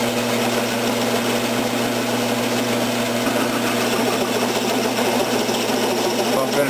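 Metal lathe cutting brass stock as the tool is fed in, giving a loud, continuous mechanical hum with a steady scraping, chattering texture throughout and no pauses.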